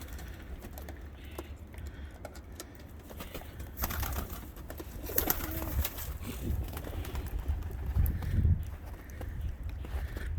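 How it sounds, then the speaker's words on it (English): Pigeons or doves coo faintly in an outdoor spot where birds are being fed, with soft fluttering, shuffling and scratchy movement sounds scattered throughout. "Here comes the other birds."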